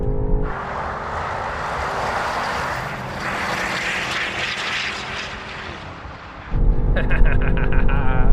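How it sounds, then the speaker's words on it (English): SUVs, one of them a BMW, accelerate hard side by side in a rolling race, their engines roaring in a sustained, rising drone that jumps louder and closer near the end. "We're going to do a rolling race with the other cars"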